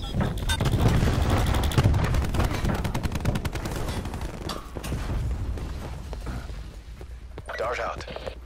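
Cluster grenade explosions in Black Ops 4 crackle as a dense run of rapid blasts and pops, loud at first and thinning out over several seconds, mixed with game sounds and faint voices.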